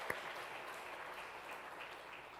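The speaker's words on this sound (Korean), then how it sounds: "우리 하나님께 영광의 박수 올려드리겠습니다." A church congregation at a Sunday worship service claps steadily throughout, giving a soft, continuous wash of applause at a moderate distance.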